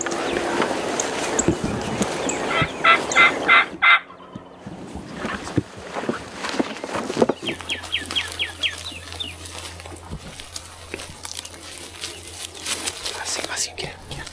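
Wild turkeys sound off on a spring morning during a Texas turkey hunt, with a loud burst of repeated calls early on, then quieter, scattered bird calls in an outdoor setting with whispering and low talk throughout.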